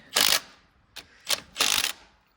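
Ratchet wrench torquing a connecting rod bolt on a Case 310 diesel with a bent rod, giving four close, crisp bursts of clicking ratchet strokes of varying length with short pauses between them.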